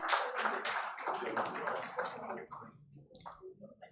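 Applause from the audience at a BusinessDay report launch on frontline health facilities in Nigeria, a dense patter of many hands that thins out over a few seconds, with some voices mixed in.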